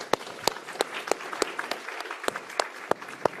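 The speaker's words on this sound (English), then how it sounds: "please give yourselves a big round of applause" Sparse clapping from a small group, distinct sharp claps in an uneven rhythm, moderately close and fairly quiet.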